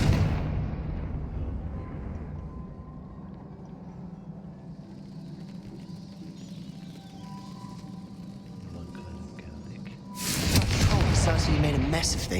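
A Confringo fire spell explodes in the Hogwarts Legacy video game: a low rumbling blast swells and fades into a long dull roar, then a loud, bright burst of crashing debris erupts near the end.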